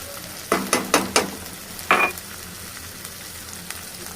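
Salt, turmeric and spices are stirred into tomato dal frying in a pan. A spoon scrapes four or five quick times, then once more, over a low steady sizzle.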